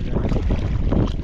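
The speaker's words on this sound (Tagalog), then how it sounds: "Malakas kasi yung hangin, kaya dinadala kami." Strong wind at sea roars across a boat, a continuous close rumbling buffet of gusts with no clear pauses.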